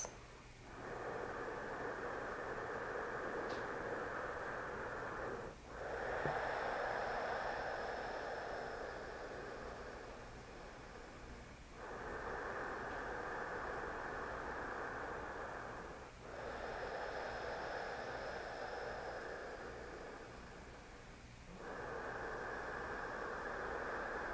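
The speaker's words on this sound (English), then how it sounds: "And taking 5 more breaths." Slow, deep breathing during a yoga breathing exercise, long airy inhales and exhales in broad even swells of breath noise separated by brief pauses, steady and close with a constant background hiss.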